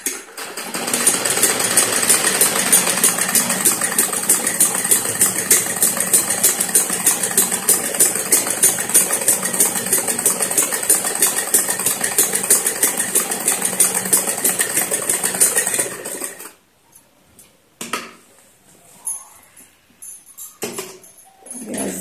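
A sewing machine stitching a salwar runs in a fast, steady mechanical whir with rapid needle rhythm for about sixteen seconds, close and loud, then stops, leaving short bursts of handling and brief restarts.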